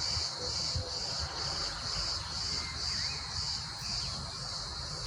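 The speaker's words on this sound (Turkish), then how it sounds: "Şu an cırcır böceklerin sesini duyuyor musunuz bilmiyorum." Crickets chirp in a steady, pulsing high trill throughout, continuous and moderately loud over faint outdoor background noise.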